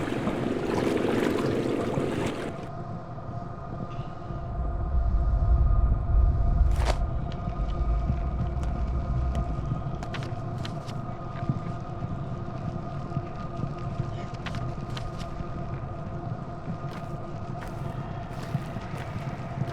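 Boat travel in the video game Pathologic 2: a steady low engine rumble and hum with a soft watery wash, swelling briefly early on, with a few faint clicks over a constant drone.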